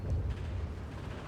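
A grenade explodes in the wartime strategy game Steel Division 2: one low, rumbling boom that decays quickly, somewhat distant and muffled.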